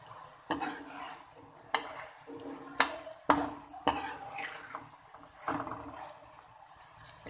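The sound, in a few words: cabbage frying in ghee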